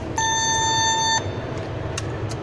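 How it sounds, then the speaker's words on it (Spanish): A single steady electronic alarm beep sounds for about a second inside a science museum, then cuts off, leaving a hum of room noise. "La alarma."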